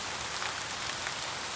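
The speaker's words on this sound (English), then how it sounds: "Got a nice little subtle rain effect there." Soft, even rain hiss fills the moment as the rain effect plays in a video game level editor, a faint continuous patter of drops with no speech.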